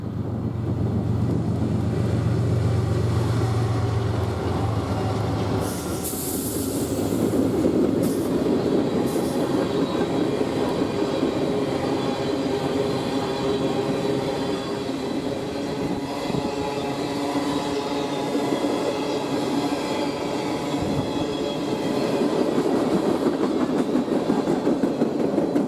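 A freight train bound from Denver to Hudson rolls steadily past outdoors, a continuous rumble of railcars with rhythmic wheel clatter and occasional high squeals, heard at moderate distance with no talk.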